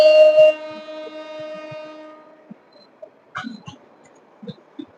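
The last commuter train departing Narsingdi, Bangladesh: its horn blares loudly for a couple of seconds and fades, leaving faint scattered clanks and rumbling as the train pulls away.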